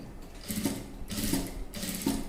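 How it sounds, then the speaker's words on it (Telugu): Sewing machine stitching a neck design on a dress, heard as three short mechanical runs of rapid, steady needle chatter, each separated by a brief pause, close and fairly loud with no talking. "ఇక్కడ సూది దింపి ఇటు మన వైపు తిప్పుతూ ఇదంతా మనకు డిజైన్ వచ్చేటట్టుగా వేసేసుకుందాం"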